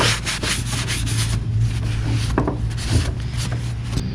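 Sandpaper rubbed back and forth over a wooden table being restored, a steady close-up scraping with rhythmic strokes and a low hum underneath, no voices.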